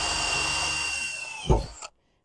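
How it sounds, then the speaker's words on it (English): A power drill bores a small hole through the roof of a pickup truck, a steady close whine running for nearly two seconds before a brief louder burst as the bit breaks through, then the motor cuts off into silence. "I'm not too worried about drilling a hole, A, in the panel, and B, in the, uh, in the roof."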